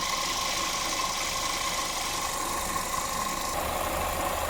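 A Chevrolet Sonic's lower-mounted air conditioning compressor runs loudly with the engine idling, giving a steady close mechanical drone with a faint whine throughout.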